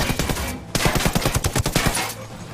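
Gunfire in Ghost Recon Wildlands, a close, loud rapid burst of automatic shots in a quick rhythmic string lasting about a second, preceded by a brief sharp report and followed by fading echo.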